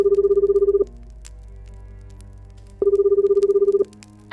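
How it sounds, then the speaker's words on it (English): A landline telephone rings in two loud electronic bursts, each about a second long, separated by a pause with faint room noise between them. "But last night, the landline rang."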